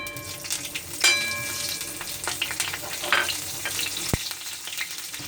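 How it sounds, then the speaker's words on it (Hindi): Green chillies frying in a pan for a Bihari adauri vegetable dish, a close, busy crackling sizzle with spatula scrapes and a sharp clink near the end, steady throughout with no voices. "अब ये हरी मिर्च फ्राई हो चुकी हैं।"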